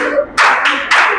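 A class gives a welcome clap: two sharp bursts of group hand clapping in quick succession, close and loud, with no talking over them.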